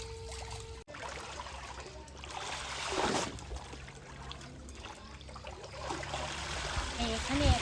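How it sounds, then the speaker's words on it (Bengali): Pond water sloshes and trickles as a sari is washed by hand, with soft splashes and dribbling rising and falling close by, and a voice speaking at moments. "এই কাপড়টা পুকুরের জলে ধুয়ে নিয়ে তারপরে কলের জলে ধুয়ে নেব"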